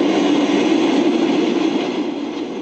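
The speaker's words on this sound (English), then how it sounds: "This is what happens when you run a 450-ton train into a white hatchback." Loud, steady rumbling roar of a 450-ton train rolling past close by at a level crossing, crashing into a white hatchback, a dense continuous wash of noise that eases slightly toward the end.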